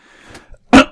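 A single sharp cough, close and loud, coming after a faint murmur of quiet sound.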